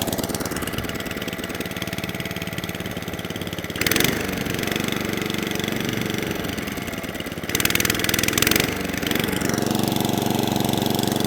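An Atco Balmoral cylinder lawnmower with a fault that makes it keep cutting out, running on half choke with a steady mid-pitched engine drone and two brief surges in revs; no one speaks.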